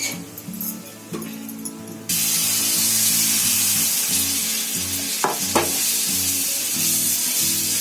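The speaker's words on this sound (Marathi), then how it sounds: "तव्यावर टाकलं की चमच्याने ते पसरायचं" Besan flatbread batter hits a hot griddle and bursts into loud, continuous close sizzling, with a few spoon scrapes as it is spread thin; quieter kitchen sounds come before the sizzle.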